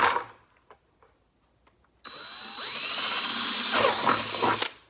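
A power drill bores holes for chicken waterer cups, starting after a quiet pause with a sustained loud whine that rises and wavers as the bit cuts, then stops abruptly.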